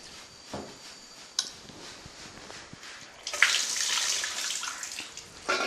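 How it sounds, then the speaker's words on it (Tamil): Rinsed rice goes into a pot of boiling water for mango rice, starting with soft bubbling and clinks, then a sudden louder watery splash and churning rush partway through. "இப்போ நம்ம எடுத்து வச்ச அரிசியை நல்லா களைஞ்சி இதில் போடுறேன்"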